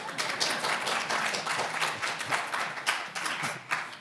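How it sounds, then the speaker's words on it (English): An audience at an antitrust law and institutions panel breaks into sustained applause, dense overlapping claps filling the room at steady loudness for several seconds. "I didn't expect that to be quite so big an applause line."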